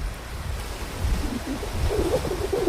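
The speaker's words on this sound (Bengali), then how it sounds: "সুন্দর সমুদ্র" Sea surf along a beach near Jambudwip, a steady broadband wash with wind buffeting the microphone. It swells slightly louder partway through, and no one speaks.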